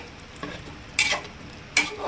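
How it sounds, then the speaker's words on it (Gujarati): Spoon scraping and stirring vegetables and spices in a pressure cooker after boiling water is added, with a few distinct metallic stirring strokes over a soft background and no talking. "એટલે બધું મિક્સ કરીને"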